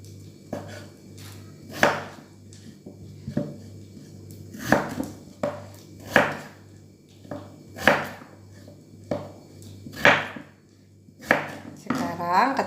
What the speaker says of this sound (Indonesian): Saya di sini pakai kentang 1 aja, yang dipotong kecil-kecil.